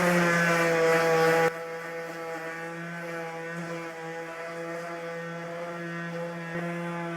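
An electric sander works over heavy metal hinges, giving a steady droning motor hum with a harsher, louder stretch at the start before settling into a constant tone; no one speaks.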